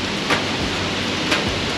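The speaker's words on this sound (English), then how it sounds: "Definitely getting a thunderstorm here" Steady rain hisses outdoors during a thunderstorm, a dense, even wash of drops with a couple of slightly louder patters and no voices.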